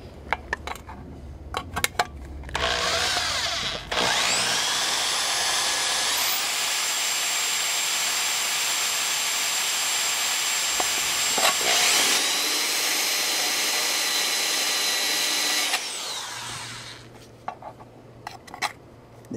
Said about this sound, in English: little rotary file bit that I have for my drill, and we can just gradually enlarge that